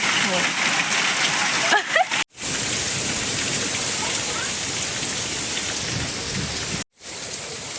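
Heavy rain and hail pour down on a village during the year's first storm, a dense, steady roar of drops hitting surfaces, broken by two brief dropouts; faint voices appear early on.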